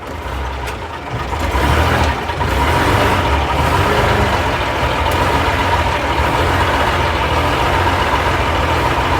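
A 1958 Leyland PD2 double-decker bus with a manual gearbox pulling in first gear, its diesel engine a loud, steady, close drone that swells slightly early on and then holds.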